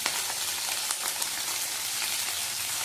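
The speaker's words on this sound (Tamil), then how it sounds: "கொஞ்சம் ஜீரகம், பூண்டு போட்டுக்கிறேன்," Cumin, garlic and green chilli frying in hot oil, a dense even hiss with rapid fine crackling, close and steady from start to finish, no speech.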